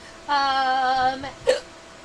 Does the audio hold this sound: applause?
no